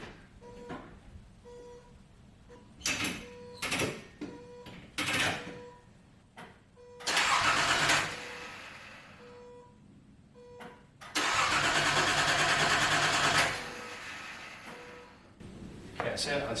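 A Datsun 280Z engine cranks in several short bursts with pauses between, catching briefly and finally firing into a longer run, heard close in a garage with a voice speaking between attempts.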